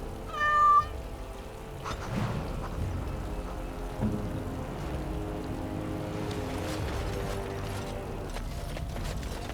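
A cat's short meow in Dragon Age: Awakening, one high clear call at the start, then a steady ambient wash with soft scattered sounds and no speech.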